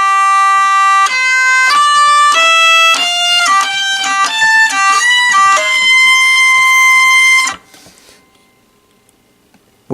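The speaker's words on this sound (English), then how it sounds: "Here's how it'll sound." A hurdy gurdy cranked evenly plays a bright, buzzing melody that steps up a scale in steady notes over a continuous drone, then cuts off abruptly, leaving near silence.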